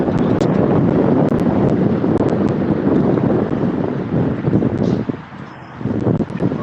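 A steady, noisy scooter engine drone runs throughout, roaring and rumbling with wind buffeting, heard close while riding in Cebu, Philippines.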